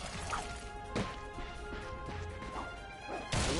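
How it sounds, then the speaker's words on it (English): Ratchet smashing wooden crates in the Ratchet and Clank video game, several sharp cracking impacts and splintering crashes spread across the clip over steady game music. "Look at him smashing crates"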